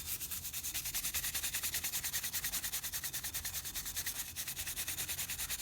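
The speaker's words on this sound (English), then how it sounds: "this is just a nylon brush, but let's give her a shot" A nylon brush scrubs back and forth over an old hatchet in a fast, even rhythm of rasping strokes, close and fairly quiet, with one short pause partway through and no voices.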